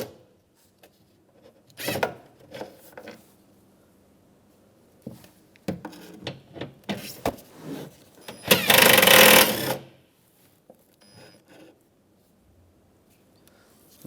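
A ratchet or driver loosens two 10mm bolts on the rear door of a 2007-2015 Mazda CX-9, producing short clicking and rattling bursts with a longer whirring spin near the middle, up close.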